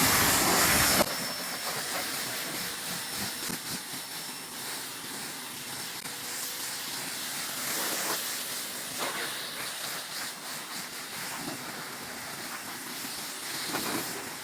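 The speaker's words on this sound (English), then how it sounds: "we'll go back to where the pressure washer is and we'll just pressure wash it off" Loud, steady hiss of a pressure washer spraying water to rinse a car runs continuously throughout, close up, with slight surges and no voices.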